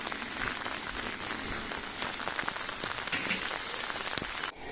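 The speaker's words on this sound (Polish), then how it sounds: "jak się rozpadało." Heavy storm rain pours steadily in a dense, hissing patter close by, on the water in Poland, with occasional louder splashes, cutting off abruptly at the end.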